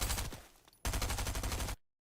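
Rapid automatic gunfire in Fortnite on an aim-training map, with one burst, a short lull, then a second sustained volley that cuts off abruptly, loud and close.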